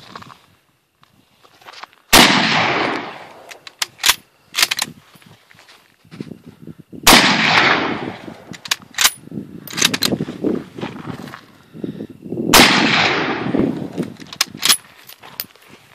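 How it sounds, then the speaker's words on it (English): Mosin-Nagant rifle fired outdoors at night, three loud, sharp shots spaced about five seconds apart, each followed by a long rolling echo, with clinks and shuffling handling noises between shots. "About to take a couple shots off the Mosin-Nagant"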